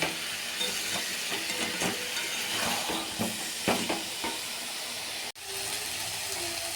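Spiced potatoes sautéing in oil for a Bengali aloo dum, a steady close sizzle with intermittent scraping and stirring clicks throughout, a brief dropout near the end, then the frying hiss resumes.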